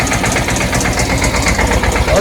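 A tractor engine runs steadily close by, its even, throbbing idle rhythm filling the whole stretch with a low vibrating pulse, and voices are faintly present underneath.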